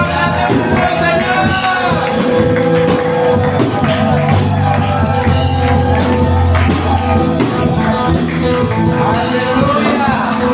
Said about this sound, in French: Est-ce que tu peux acclamer plus fort au Seigneur?